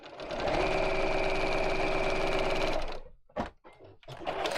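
A sewing machine stitches a seam in a steady, loud mechanical whir for about three seconds, then stops and gives a few short bursts of stitching, with no talking.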